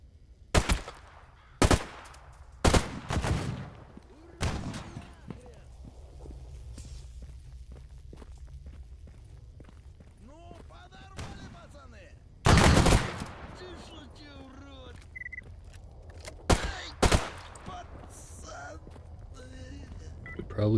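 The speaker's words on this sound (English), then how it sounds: "It looks like it's finally time to test a rifle." A rifle is test-fired in the STALKER GAMMA game: several loud, sharp single shots spaced irregularly, including a close pair, with quieter footsteps and ambient rustle in between.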